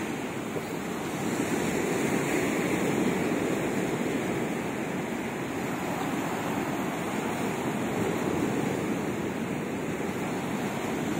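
Steady roar of sea surf washing onto the shore in Odesa, continuous and fairly loud, with a windy hiss over it and no voices.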